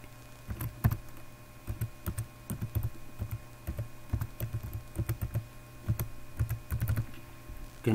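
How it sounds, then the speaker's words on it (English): Someone types a password on a computer keyboard, close and clear, in irregular bursts of quick key clicks with short pauses between groups, and no talking. "So I'm going to type my password."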